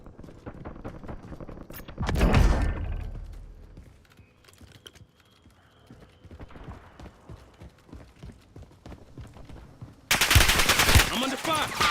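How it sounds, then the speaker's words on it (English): Video game gunfire: a loud burst of shots near the start, then scattered mechanical clicks and taps, and a dense, loud volley of automatic fire at the end. "I'm under fire."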